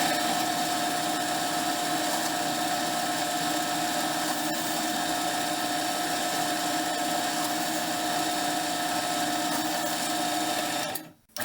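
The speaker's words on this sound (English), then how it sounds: "drill through with a regular bit, just to pre-drill the hole" A power drill pre-drilling a hole with a regular bit gives a steady, continuous whine that runs unbroken for about eleven seconds, loud and close, then cuts off abruptly at the end.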